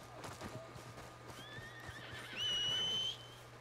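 A horse in the video game Red Dead Redemption II gives a clear, rising whinny and clip-clops on arrival, moderately near, over a low steady game background.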